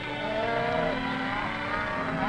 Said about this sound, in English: The cattle are first rounded up.